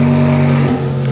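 A BMW M6 with a V10 engine and titanium exhaust revs, a loud, close, steady engine roar with strong low harmonic drone lasting about a second.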